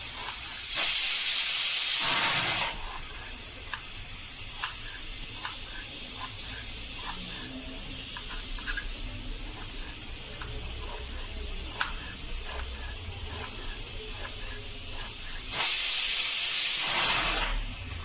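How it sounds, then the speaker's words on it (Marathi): A pressure cooker cooking mutton gravy vents steam in two loud hissing bursts, one near the start and one at the end, with a quiet kitchen in between. "तर कुकरच्या 4 शिट्ट्या करून घेतल्यात आपण।"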